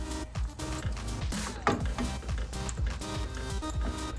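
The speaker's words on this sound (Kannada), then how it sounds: "ಒಂದು 5 ನಿಮಿಷದ ಕಾಲ ಈ ಒಗ್ಗರಣೆಯಲ್ಲಿ ಬೇಯಲಿ" Field beans and tomato sizzle loudly in a hot tempering for a Karnataka tomato bath, a dense continuous frying crackle with scraping stirs and a brief metallic clink midway, no voices.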